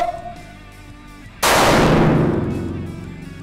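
A single loud handgun shot with a sharp onset and a long ringing decay, fired with a deliberate trigger press on a shooting range during a sight alignment drill, preceded by quiet low-level background.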